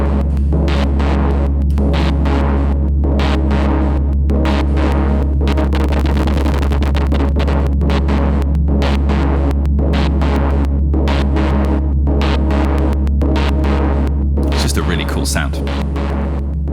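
A synthesizer patch runs through a Djupviks Spektrum switched capacitor filter, producing a loud, continuous throbbing drone with a deep sustained low hum and rhythmic gated pulses that shift and sweep in texture throughout.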